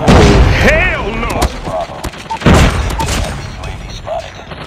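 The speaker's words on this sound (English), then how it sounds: "Watch out! Heavy machine gun." Heavy machine gun fire and explosions in a mobile shooter video game, loud repeated bursts and booms mixed with in-game voice callouts.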